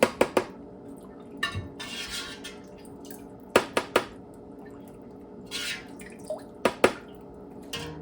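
Broccoli sprouts rinsed and shaken in a colander, giving sharp intermittent clatters and drips with brief watery splashes between near, moderately loud bursts.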